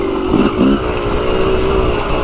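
A Yamaha YZ dirt bike engine out on trails, a loud, steady close drone with a brief bump in pitch near the start and no talking.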